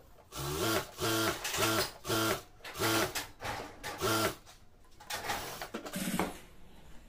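Sewing machine stitching a bartack on a salwar, a run of quick rhythmic mechanical whirring bursts, about seven short pulses in close succession, followed by softer handling clicks and rustle.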